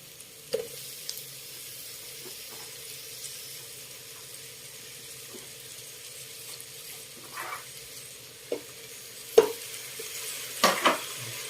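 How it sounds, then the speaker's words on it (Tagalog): Tomatoes being added to a pan and sautéed for Ilocano pakbet, giving a faint steady sizzle with occasional soft stirring scrapes and a few louder clinks of a utensil near the end. "Lagyan na natin yung ating kamatis para maluto."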